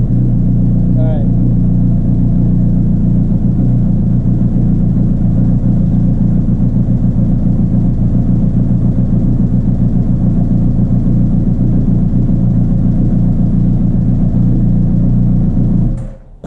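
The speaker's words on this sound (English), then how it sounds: "I think that's the engine knock" A Honda CBR1000RR motorcycle engine with an engine knock runs steadily for about sixteen seconds, a loud, close, continuous low rumble with a faint repeating beat, cutting off abruptly at the end.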